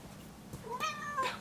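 A cat gives a short, close meow with a rising then falling tone, heard alone in a quiet room.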